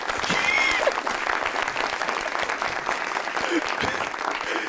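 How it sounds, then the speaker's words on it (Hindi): Studio audience applause on a SAMAA TV talk show, steady clapping throughout with a brief whistle near the start. "इन्हीं दुआओं वाले हाथों से ना अब ताली बजाना चाहता हूं आपके लिए।"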